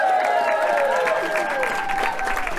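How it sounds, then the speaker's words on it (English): Audience at a queer storytelling evening applauds a newly announced lesbian host, steady clapping mixed with whoops and cheering voices throughout, close and lively. "round of applause for Nadine, our first female host of the Queer Storytelling Evening"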